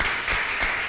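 Studio audience applauding a musician on a talk show, a dense, even wash of clapping that holds steady at moderate loudness through the brief moment, with no voices over it.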